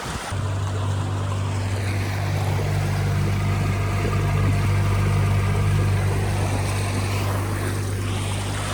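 Steady low hum of an electric outboard motor with a constant drone, water rushing past and wind buffeting the microphone as a small boat moves downstream on a river.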